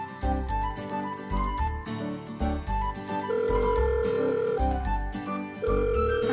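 A mobile phone rings for an outgoing call with a musical ringtone, a loud, steady run of repeating melodic tones lasting throughout with no voices.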